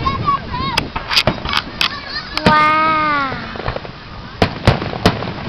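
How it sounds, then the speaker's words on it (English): Fourth of July fireworks bang in sharp, loud bursts spaced through the clip, with one long whistling rocket rising in the middle, while an adult exclaims and talks to a small child. "Oh, these are our first fireworks."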